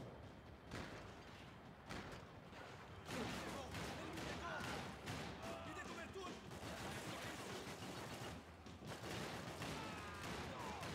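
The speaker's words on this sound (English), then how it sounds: "I forgot that I can also do blind fire." Bursts of gunfire from blind firing in Max Payne 3, dense and repeated across the span with loud clustered shots, while someone talks over the shooting.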